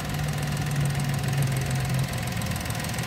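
A kei car engine idling in its engine bay, a steady close mechanical hum with a faint ticking knock and a slight drop in level near the end, no talk over it.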